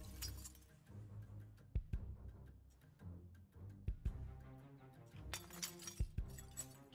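Glass windows break and get cleared out in a survival video game, with a string of sharp crashes and tinkling shards scattered across several seconds over a low rumbling background.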